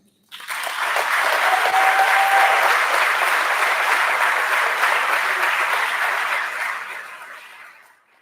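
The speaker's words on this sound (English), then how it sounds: "Please join me in a heartfelt round of applause for Ms. Barbara Heffron" Sustained applause from an audience at a school awards and recognitions ceremony, honoring a retiring teacher, rising quickly to a steady, full roar of clapping that holds for several seconds before tapering off.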